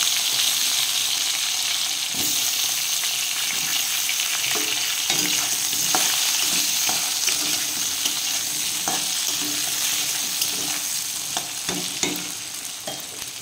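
Potatoes sizzle steadily in hot oil in a pan for a Bengali hilsa fish curry, with light scraping stirs clicking in at irregular intervals.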